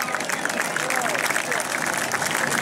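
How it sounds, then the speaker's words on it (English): Race-night crowd applauding a third-place finisher at the New Smyrna World Series, a steady wash of distant clapping and cheering that fills the whole moment with busy crowd noise. "Give him a round of applause."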